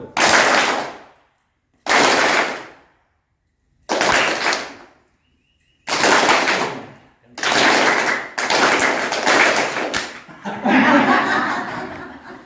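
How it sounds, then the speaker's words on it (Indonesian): A group plays a hand-clapping concentration game at a parish retreat: repeated bursts of massed clapping separated by short silences, later running together with laughter and chatter. "Siapa yang tepuk tangan tadi waktu tidak diangkat?"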